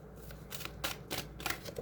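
Tarot cards are shuffled by hand close up, a soft, quiet run of rapid papery riffles and flicks in several short bursts with no talking.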